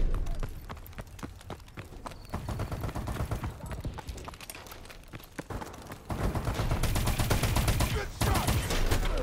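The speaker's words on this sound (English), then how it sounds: "I'm gonna try to get some kills with this pistol now, cause it's pretty good" Rapid pistol gunfire rings out in a Call of Duty: Advanced Warfare team deathmatch, with dense volleys of sharp shots and scattered combat noise building louder toward the end.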